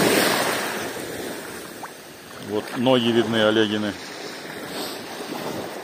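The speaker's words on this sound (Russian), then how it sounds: "Такая волна такая нежная-нежная такая, аккуратная." Gentle sea waves wash over clear, calm water as a steady soft broadband rush mixed with wind noise, with a brief voice speaking in the middle.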